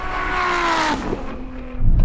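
Ferrari SF90 and a 1000-horsepower Nissan GT-R in a half-mile drag race, loud roaring engines with rising whine then a gear-change dip, one car sweeping close before the din fades and a low rumble returns.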